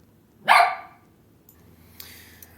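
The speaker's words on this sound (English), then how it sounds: "Additional unwanted barking sounds provided by Oscar the dog." A dog gives a single loud, sharp bark close by, followed by a quiet, hissy background with a few faint noises.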